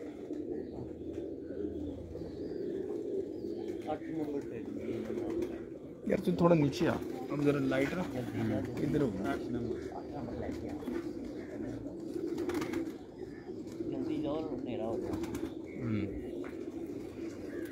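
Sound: Sialkoti pigeons cooing

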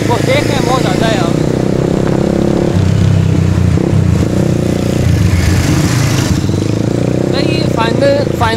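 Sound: Super Star 200 motorcycle engine on test ride in traffic

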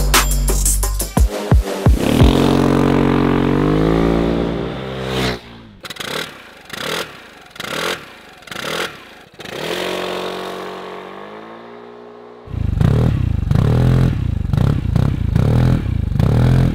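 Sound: Vespa GTS scooter with Remus RS 2.0 exhaust

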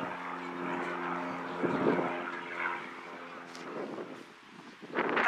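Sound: airplane flying overhead

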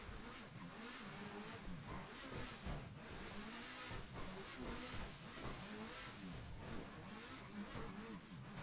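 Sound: car driving through the sewer in GTA Online video game

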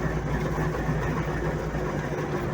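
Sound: MTZ-80 tractor engine running

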